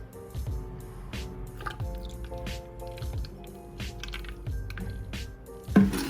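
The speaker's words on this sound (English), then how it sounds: "I'm gonna fill up my little watering can thing with my sponge water" Water is squeezed from a sponge into a small watering can in a repeated rhythm of squishy squeezes and dripping, pouring trickles, close and fairly quiet, with a louder splash near the end.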